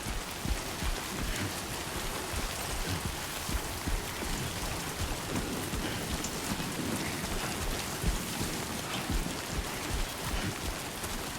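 Steady rain pours down in a dense, even hiss of drops striking surfaces, constant and fairly loud throughout with no voices.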